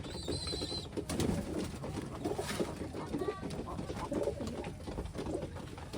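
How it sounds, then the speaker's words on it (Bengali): Rajshahi Giribaz and racer pigeons perched on a wire coo softly in a low, continuous murmur at a loft, with faint bird calls mixed in. "আমার কাছে রাজশাহী গ্রিবাজ আর রেসার কবুতর ছাড়া কোনো কবুতর নেই আমার অনেক কবুতর এখনও তারে বসে আছে"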